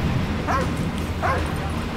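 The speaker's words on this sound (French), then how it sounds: "Riley, t'as le chien il aboie, mon gars" Dog in Call of Duty Ghosts gives two short yipping barks about a second apart, clear over steady game background noise.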